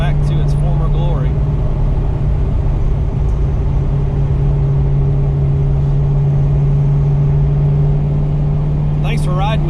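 A 1990 Saleen Mustang is heard from inside while driving, a loud, continuous low engine rumble that holds steady throughout, with brief voice sounds at the start and end.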